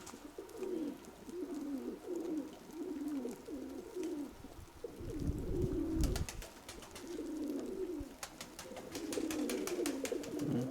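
Pigeons coo in soft, repeated low rolling calls, with some fluttering and clicking sounds in the middle and later.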